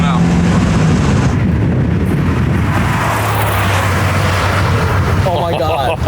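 A Volkswagen Mk3 A59 race car is driven hard on a track, its engine roaring loud and constant from inside the car with broadband rumble and wind noise, while a voice talks faintly beneath.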